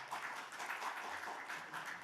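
Audience at a legislative public hearing on real estate policy giving steady, even applause, moderately distant and sustained without talk.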